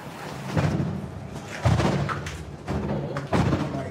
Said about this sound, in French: 3 explosions retentissent.